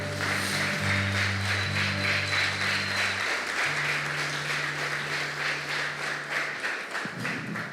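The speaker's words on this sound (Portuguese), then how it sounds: "Vamos dar uma salva de palmas a Jesus pela vida dele" A church congregation claps together during a Portuguese-language service, a broad wash of hand claps running throughout while a low sustained organ or keyboard tone hums beneath and then shifts pitch.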